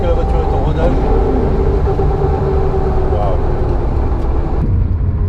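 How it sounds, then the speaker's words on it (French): A 1966 Porsche 911 with its 2.0-litre engine, still being run in, pulls steadily under acceleration, a loud, continuous engine note that rises and holds close to the listener for several seconds, with talk mixed in. "La sonorité du moteur est absolument envoûtante."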